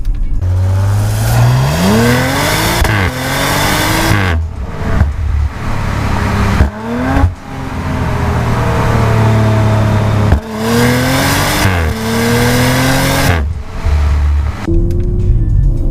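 A powerful Audi RS5 engine revs up repeatedly through rising pitch sweeps to a limiter near 6700 rpm, cutting off sharply between pulls, loud and close.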